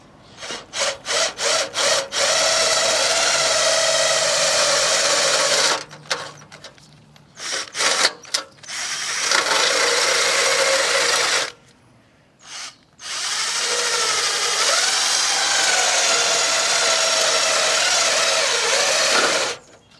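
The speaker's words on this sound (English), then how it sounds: "we're going to drill these out" Power drill boring out spot welds on the salvaged front end of a Subaru Impreza WRX, loud whining bursts that start as short stutters, then run in long sustained stretches broken by brief pauses.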